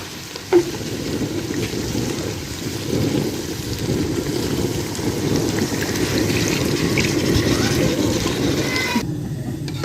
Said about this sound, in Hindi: अभी हम इसमें पानी शामिल कर देंगे।